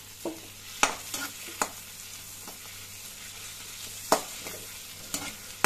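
Ginger paste and green chillies sauté in a pan for a restaurant-style chicken gravy, giving a soft steady sizzle broken by a few sharp spoon scrapes and stirring knocks spread through the clip.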